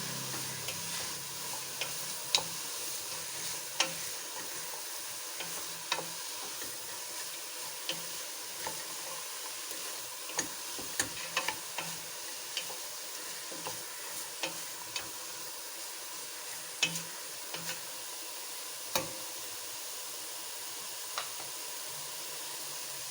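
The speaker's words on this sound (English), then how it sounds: "Stir it well. I use very little oil," Mixed vegetable pulao frying in a little oil is stirred, giving a steady soft sizzle with scattered light utensil clicks and scrapes, moderately quiet and with no talking.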